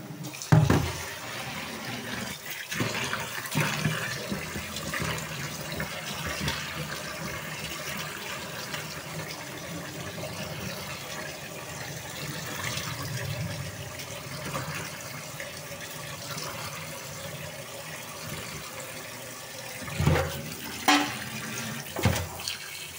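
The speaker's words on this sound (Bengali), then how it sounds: "তো মাছগুলোকে আগে ভালো করে জল দিয়ে চলো ধুয়ে নিই।" Tap water runs in a kitchen sink while fish are rinsed by hand, a soft, steady splashing with occasional louder gushes and handling noises.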